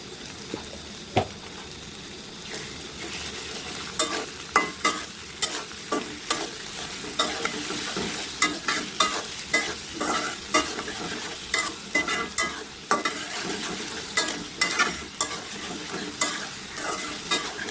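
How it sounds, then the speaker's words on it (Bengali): Ingredients for a shoal fish curry with elephant-foot yam being stirred and fried in a pan, a continuous sizzle punctuated by regular spatula scrapes and taps, close and alone without talk. "এগুলি নেড়ে নেড়ে আরো কিছু কোনো ভেজে নেবে"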